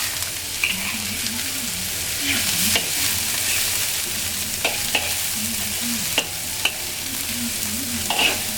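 Ren nim (dragon plum) paste fries in a wok, a continuous sizzle broken by repeated scraping strokes of a spatula stirring the paste.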